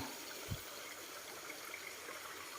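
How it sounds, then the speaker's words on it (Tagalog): A river flows with a steady, faint, even rush of water, with no voices over it. "medyo maingay yung ilog kasi nandito tayo sa ilog"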